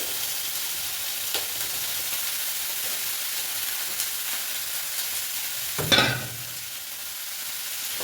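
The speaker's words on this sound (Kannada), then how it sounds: "ಇದು ಎಣ್ಣೆ ಸ್ವಲ್ಪ ಹಾಕ್ಕೊಂಡು ಹಾಗಲಕಾಯಿ ಹಾಕ್ಕೊತಾ ಇದ್ದೀನಿ" Bitter gourd frying in a little oil in a pan, a steady soft sizzle throughout with a brief louder burst of crackling midway as it is stirred.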